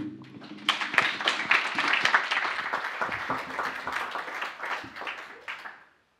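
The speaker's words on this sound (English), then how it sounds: "I don't like this clapping beforehand" An audience applauds just before a talk on Brexit and the general elections, dense steady clapping that builds quickly, holds, then tapers off and stops.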